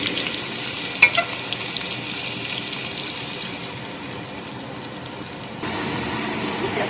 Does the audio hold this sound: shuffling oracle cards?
no